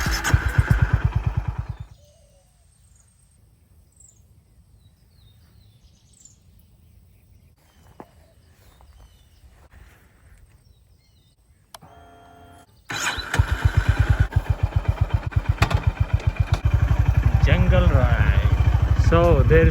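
Honda CB350 motorcycle cruising on a freeway at around 70, its engine droning loud and steady near the start, dropping out for a long quiet stretch, then returning strong with a throbbing, rumbling note.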